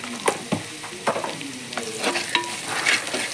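Spices for prawn biryani fry in oil in a pan with a soft sizzle, broken by several sharp scrapes and clinks of a spoon stirring at irregular intervals, close and fairly quiet.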